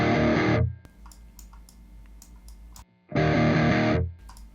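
Electric guitar through the AudioSingularity Neurontube Tangie amp simulator, two loud distorted chord bursts separated by a quieter, muted picking passage with faint clicks.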